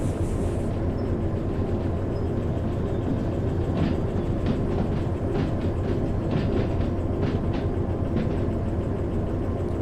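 A diesel locomotive in the train game Derail Valley rumbles along the rails with a steady low engine drone and intermittent clanking wheel clicks, loud and continuous throughout with no voices.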